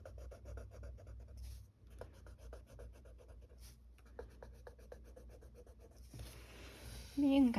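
Colored pencil scratches softly across paper while filling in a winter mandala, a faint steady scribbling with brief pauses and a short rustle near the end.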